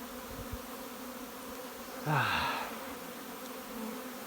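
A honey bee buzzes past up close at a bee yard of hive boxes, its drone swelling for a moment and fading, over a steady low hum of many bees in the background.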